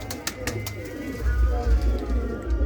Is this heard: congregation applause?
no